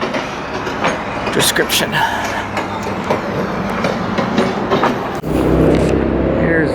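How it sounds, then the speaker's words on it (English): Push-button chugging sound effect at a rotary snowplow train park in Breckenridge, Colorado, giving rhythmic loud chuffs near the microphone, with a person talking over it. "when you push the button, all you hear is the chugging sound"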